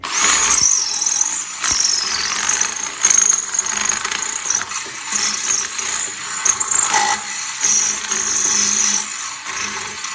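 A power drill with a number 8 bit bores out a bolt hole while a new rear exhaust tail pipe is fitted to a Land Rover Defender TD5, giving a sustained high metallic squeal close up with brief pauses.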